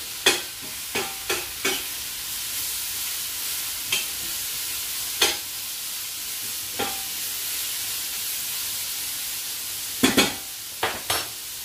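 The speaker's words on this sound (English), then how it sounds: "I'm just sweating off the vegetables, help lock the flavor in." Vegetables sweat in a hot pan with a constant soft sizzle, punctuated by a dozen or so sharp spatula clicks against the pan, some in quick clusters, close by and with no voices.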